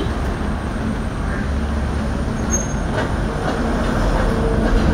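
A train rolls past close by on a West Bengal roadside during a motorcycle ride, a steady loud rumble of wheels and wagons filling the whole stretch with faint squeals on top.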